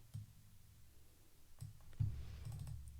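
Keys clicking on a computer keyboard while the return key is pressed, a few soft, close taps and thumps spaced irregularly over a quiet background.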